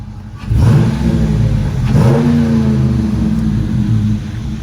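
A 2017 Dodge Challenger R/T Shaker engine runs close by, rising into a couple of revs before settling back to a steady hum.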